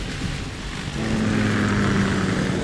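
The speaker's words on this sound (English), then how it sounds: "K-60 Kasatka. Kasatka? Kamov chopper, right?" Kamov Ka-60 Kasatka military helicopter in the Metal Gear Solid 2 video game, a steady droning engine and rotor hum that grows louder after the first second and holds, with no voices.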